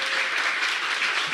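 A studio audience applauds to welcome a guest, a steady, loud, continuous wash of clapping with no voices over it.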